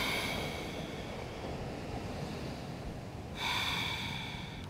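Steady, audible breathing during a vinyasa yoga flow by the sea, a long continuous airy exhale that rises into a fresh inhale near the end, with a broad wash of background noise throughout.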